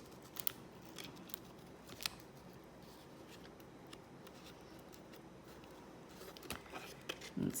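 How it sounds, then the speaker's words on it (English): Scissors snip out a temporary tattoo piece for a polymer clay tile craft, giving a close, quiet run of soft cuts with a few sharper clicks scattered over a low room hiss. "rather than guiding with your scissors around edges, just move the piece that you're cutting."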